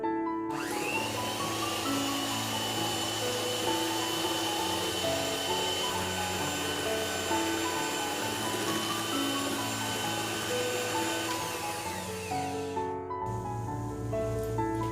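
An electric mixer beats cream for a keto fruit salad, a loud, even motor whine that holds steady for about twelve seconds and then cuts off, leaving a faint low hum.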